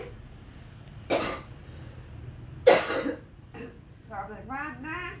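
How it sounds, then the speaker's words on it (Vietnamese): A woman coughs twice in a quiet home, two sharp harsh bursts a second or so apart, followed by a small baby's soft babbling vocalizations nearby. "Mẹ bị ho, mẹ bị mệt đấy."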